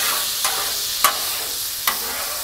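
Shrimp scampi sizzling on a Blackstone flat-top griddle, a steady close hiss with a few sharp pops and ticks breaking through, with no voices.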